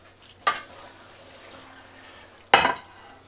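Drunken noodles stirred in a hot pan, two sharp scraping clatters of a utensil against the pan over a faint steady sizzle of frying, no talking.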